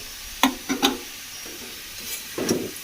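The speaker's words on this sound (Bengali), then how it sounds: "এই যে আলু ভাজা হচ্ছে গরম গরম আলু ভাজা" Potatoes fry in a pan at home under a faint background sizzle, broken by several sharp utensil knocks and scrapes, with a rougher stirring burst near the end.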